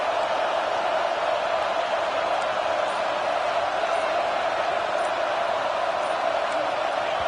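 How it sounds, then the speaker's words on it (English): A packed college football stadium crowd at a Penn State versus Nebraska game roars loudly and steadily, a dense, unbroken wall of noise rising as the home fans try to disrupt the opposing offense. "Listen to this crowd just shaking the girders of this place,"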